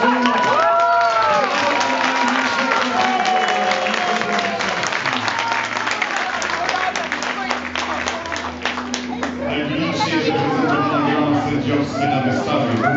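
Crowd applauding and cheering at the Wrocław international dog show during the 'Woman and Dog' contest, steady clapping under an announcer's voice speaking through a loudspeaker, with shouts rising near the end.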